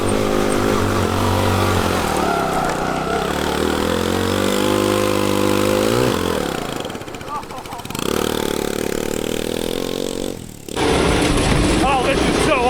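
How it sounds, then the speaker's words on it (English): A turbocharged, 5-speed Corvette-powered shifter go kart engine runs loud and close, droning steadily, then dropping and rising again through rev changes while excited voices talk over it. "Dude, it's a shifter cart."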